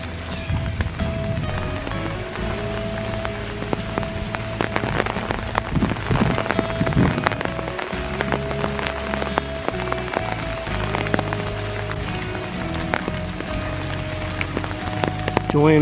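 Rain falls steadily during a dark April morning hike at Iroquois Park, a dense, constant patter of drops on leaves and ground that stays close and fills the whole stretch.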